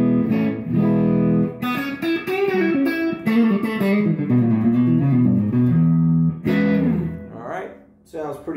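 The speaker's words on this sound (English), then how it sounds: "So here's the sound of my guitar." Electric guitar run through a Zoom MultiStomp into a Strymon Cloudburst reverb pedal, played as sustained chords and single notes with a light wash of reverb trailing each phrase, loud and close with no talking.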